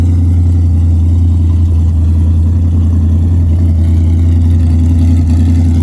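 A 1969 Plymouth Barracuda engine running, a loud, close and steady low rumble that holds an even drone for the whole stretch without revving.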